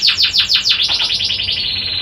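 A brooding canary sitting on its eggs gives a quick run of loud, close, sweeping chirps, repeated rapidly and then trailing into a softer trilled series.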